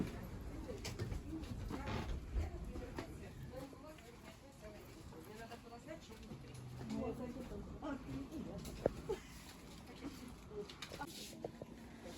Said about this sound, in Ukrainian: Багато голубів.